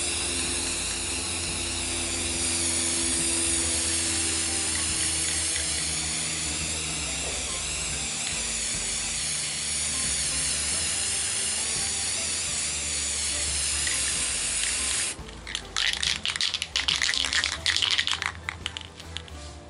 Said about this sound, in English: And then we want to spray the whole thing.